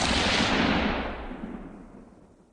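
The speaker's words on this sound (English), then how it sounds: "A gunshot catapulted young Temperance from slumber, late into the night" A single gunshot sound effect from an audiobook, a loud close blast that rings out and decays smoothly over a couple of seconds into a fading echoing tail, with no speech.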